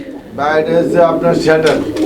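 Fancy pigeons, among them a Shadel pair, coo in a loft while someone talks close by, his voice largely covering the low cooing.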